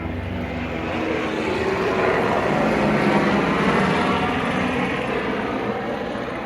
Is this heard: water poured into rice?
no